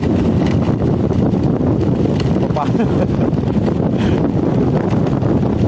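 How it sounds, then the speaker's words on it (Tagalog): Strong wind at a limestone cave campsite roars continuously and loudly against the microphone, a dense buffeting rumble that never lets up. "Napakalakas ng hangin."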